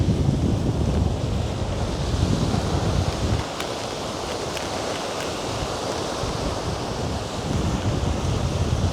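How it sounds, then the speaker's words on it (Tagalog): Strong wind buffets the microphone near a bridge, a continuous loud roar with heavy low rumble that eases briefly midway before gusting back up. "Malakas palang hangin ngayon."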